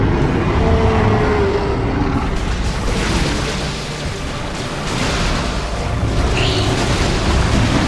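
Bunker explosion in Dawn of War II Retribution: loud, sustained booming and rumbling battle noise throughout, easing briefly in the middle before swelling again.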